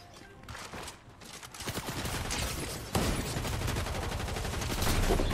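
Rapid gunfire in the video game Valorant crackles in dense bursts, starting quieter and swelling into continuous loud volleys.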